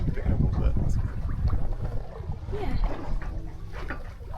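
Sailboat gliding smoothly on the Chesapeake Bay on a sunny day, a 6 mph breeze gusting to 14 rushing steadily over the microphone with soft water noise, while people chat briefly nearby.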